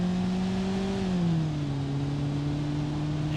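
Mid-1980s Bruckle Legrand with a 92-horsepower engine in BeamNG Drive, a steady droning engine note climbing a hill that dips slightly in pitch partway through, continuous and close with no talking.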